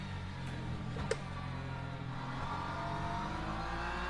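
A race car engine screams at high revs in the Le Mans Ultimate sim at Le Mans, a sustained steady whine with layered harmonics and a brief click partway through, with no talking.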